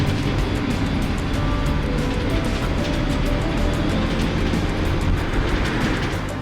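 A 2017 Ford Transit High Roof Extended van drives along, giving a steady, loud road and engine rumble with wind noise inside the cabin.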